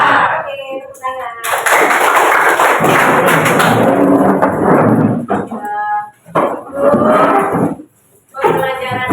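A classroom of students claps their hands together, a loud sustained burst of applause that fades, followed by a teacher talking.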